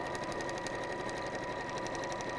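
A sewing machine stitches straight down the centre of fleece fabric being quilted, making a quiet, steady, rapid rhythmic ticking and whirring that runs continuously and evenly throughout with no talking.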